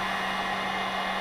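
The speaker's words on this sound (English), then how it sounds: "heat gun's making a lot of noise." A heat gun blows a steady, loud stream of hot air into the gap between an RC car wheel and its tire, a close continuous roar with a constant hum and no pauses.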